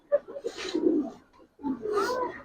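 Senior Giribaz pigeons at a pigeon seller's give two bursts of throaty cooing separated by a brief pause, close and moderately loud.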